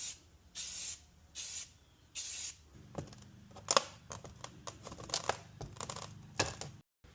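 Short bursts of spray paint from an aerosol can lay a light coat, several even hissing passes separated by pauses, followed by quicker spurts and faint rattling.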